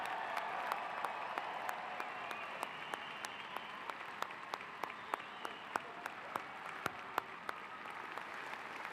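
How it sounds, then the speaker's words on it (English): A large commencement audience at a university graduation applauds, a broad, distant roar of clapping with a few sharp individual claps standing out near the front, continuous throughout. "can we just have a big round of applause"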